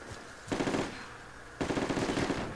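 Two loud bursts of rapid machine gun fire in the military shooter game Project Reality, each lasting about a third of a second with quick rattling shots, separated by a short pause and a faint background rumble.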